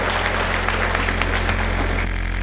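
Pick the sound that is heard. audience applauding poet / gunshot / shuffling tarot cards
audience applauding poet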